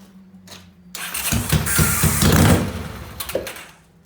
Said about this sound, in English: Little bitty backfires can throw some gas out